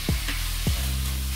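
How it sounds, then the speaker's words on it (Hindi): Finely ground minced beef frying with onions in a pan, a steady loud sizzle with two brief stirring scrapes near the start, no voices. "इसको अच्छे तरीके से हमें इसके अंदर यहाँ प्याज के साथ फ्राई करना है"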